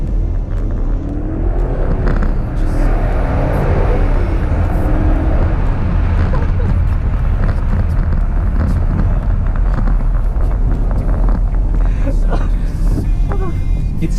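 A 2010 BMW X5 50i twin-turbo engine heard from the cabin with the windows open: a steady, loud rumble with heavy wind and road noise throughout, no clear rev changes standing out.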